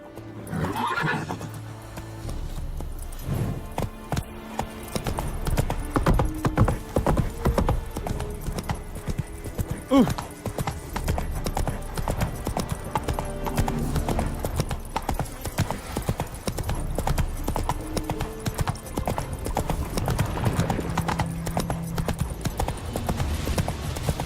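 Hooves of Roach, a horse in The Witcher 3, clip-clop steadily at a gallop for the whole stretch, close and loud, with a whinny near the start and faint game ambience underneath.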